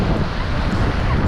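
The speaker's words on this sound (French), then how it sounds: "Et ça va, les vagues sont pas trop dangereuses." Ocean waves wash continuously onto a Texas beach while strong wind buffets the microphone, giving a dense, loud, unbroken roar of surf and gusts with no voices.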